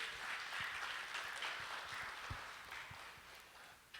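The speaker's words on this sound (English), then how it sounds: "Could you please give yourselves a round of applause?" Audience at a tassa music award ceremony applauding themselves, a moderate, continuous crowd clapping spread across the room with a few louder nearby claps and thumps, gradually easing toward the end.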